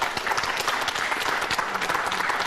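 Sustained studio audience applause fills the room at a talk show, a thick, even wash of many hands clapping without pause, with no one speaking over it.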